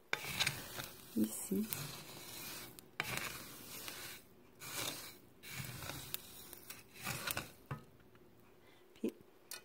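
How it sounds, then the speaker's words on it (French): Mustard seeds and spices dry-roast in a pan while being stirred, giving a soft, continuous rasping crackle with faint pops and scraping; a voice speaks briefly over it. "Je sais pas si vous pouvez entendre. Les épices, là, c'est la moutarde qui fait le son comme ça."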